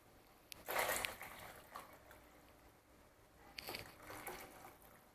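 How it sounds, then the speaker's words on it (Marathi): Milk poured into a pot of boiling liquid for sheer khurma, heard as two short splashing, gurgling pours a few seconds apart, the first one louder, in an otherwise quiet kitchen. "आता आपण दूध घालायचं आहे."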